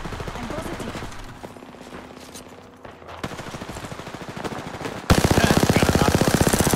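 Video game gunfire rattles in rapid automatic bursts, dense and continuous, then turning sharper and louder near the end, with faint bits of voice underneath.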